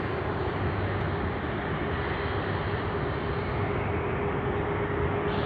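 A Philippine Airlines Airbus A330-300 at Sydney Airport produces a loud, steady broadband jet roar that holds evenly throughout, with no talking.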